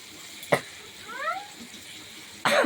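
Malabar spinach drops into hot spiced oil in a pan and bursts into a loud, close sizzle near the end. Before that, a single sharp clatter and a faint chirping squeak sound over quiet kitchen hiss.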